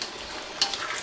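Beef going into a hot pan for chow mein, a short burst of bright hissing sizzle with a sharp crackle near the middle, close and brief.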